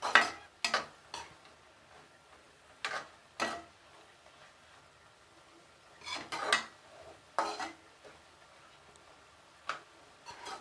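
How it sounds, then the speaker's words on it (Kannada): A spoon scrapes and clinks against a pan while tomato gojju with grated coconut and coriander is stirred and fried, giving scattered sharp metallic knocks between quiet gaps, close and alone. "ಸ್ವಲ್ಪ ಕಾಯಿ ತುರಿ, ಹಾಗೆ ಕೊತ್ತಂಬರಿ ಸೊಪ್ಪು ಎಲ್ಲ ಈಗಲೇ ಹಾಕೊಂಡು ಚೆನ್ನಾಗಿ ಹುರ್ಕೊಳ್ಳೋಣ"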